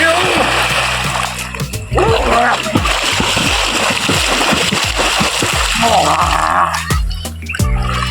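Water splashes and sloshes loudly and continuously in a canal, with bursts of churning as someone swims through it; voices and shouts come through now and then.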